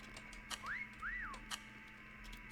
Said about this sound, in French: tu m'as trouvé parce que j'ai sifflé